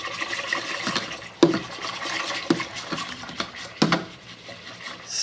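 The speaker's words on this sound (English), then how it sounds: "Stir vigorously." A Mr Beer brewing mixture is stirred vigorously in a keg, with a steady swishing of liquid broken by a few sharp knocks of the spoon against the container, close and fairly loud.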